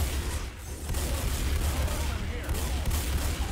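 Dense, continuous Left 4 Dead 2 gunfire roars as a steady, loud wash of rapid shots, with no pauses over its short span.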